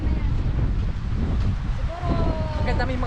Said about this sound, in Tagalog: At ang lakas po ng hangin dito ah